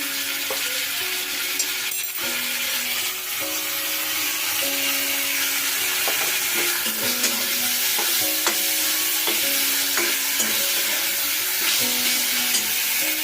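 Ginger, garlic and green chili paste sizzles in a pan with deep-browned onions for a doi potol curry, a steady loud hiss under repeated stirring scrapes and clicks, with faint background music tones throughout.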